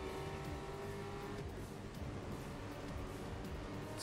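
A Ford Mustang Mach 1 racing through a snowy track in the video game Grid Legends, its engine holding a steady, fairly quiet drone throughout, mixed with game sound.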